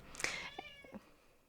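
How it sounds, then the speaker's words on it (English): A pet cat meows a few times in quick succession, short nasal calls close by and fairly quiet, with no other voices. "My cat is bugging me."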